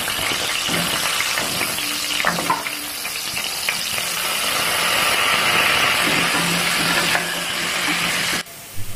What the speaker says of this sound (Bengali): তেলটা গরম হলে আমি পটলগুলো একে একে ছেড়ে দেব